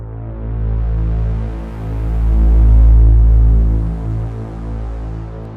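Deep, droning bass isolated by an equalizer on a music mix, loud and swelling in slow pulses with a throbbing, humming low end. Little else comes through above it, and no one speaks.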